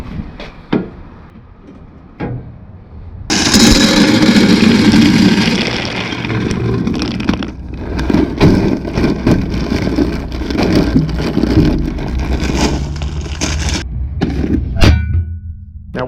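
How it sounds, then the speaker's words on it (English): A Traeger pellet grill starts up outdoors, its fan and motor kicking in with a loud steady whirr and hum, accompanied by clunks and rattling handling noises, close by. "Let's go out here and get this Traeger up to temp."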